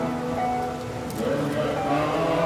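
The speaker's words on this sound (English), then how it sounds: "Untypically for this time of year, it's raining" Early-morning rain falls at Angkor Wat in Siem Reap, Cambodia, a steady broadband hiss under a murmuring voice throughout.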